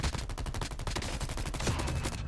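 Rapid automatic gunfire in Call of Duty Mobile, a dense, loud burst of evenly spaced shots that runs almost without a break and stops right at the end.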